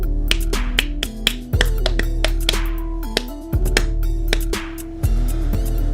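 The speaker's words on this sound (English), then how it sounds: "See if it picks up my clap." Sharp, close hand claps repeat in quick, uneven bursts to trigger a U`King mini laser stage light, while steady electronic tones from the light's built-in sound mode play underneath.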